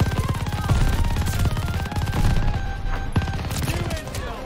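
Gunfire in the video game Call of Duty: Vanguard: bursts of rapid automatic shots crackle continuously at moderate loudness, with scattered heavier reports, and a player's voice occasionally sounds over the firing.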